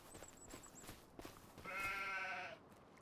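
Sheep bleating in the Farming Simulator 25 video game, a flock of around 300 animals: a sustained, fairly loud bleat in the latter half rising over a soft, busy background of farm ambience and smaller calls.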